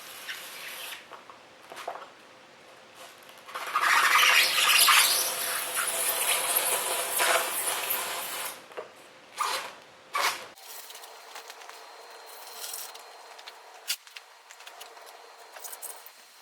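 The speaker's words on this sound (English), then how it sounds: "now we're going to grab a blade and cut that out" A utility blade slicing through a foam insulation board for a garage door, heard as a burst of scratchy, squeaky cutting strokes close up, followed by short scraping rasps and quieter handling noises.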